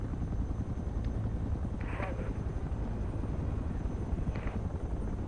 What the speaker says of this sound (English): What a nice heli.